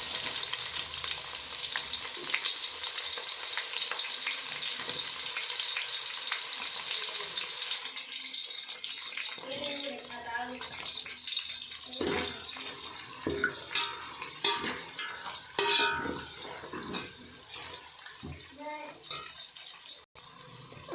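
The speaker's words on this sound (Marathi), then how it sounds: "आता आपला कांदा चांगला फ्राय झाला आहे" Onions frying in a spiced masala for chicken biryani, a steady broadband sizzle at first that thins into scattered crackles, stirring clatter and occasional talk.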